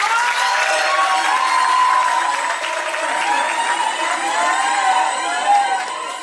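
At a Cameroonian wedding, guests cheer loudly with high, wavering voices and scattered clapping in a sustained, close burst of celebration that swells and settles throughout.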